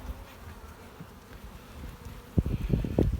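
Honey bees buzzing at an opened hive, a soft steady drone with a few louder close buzzes near the end as individual bees pass the microphone.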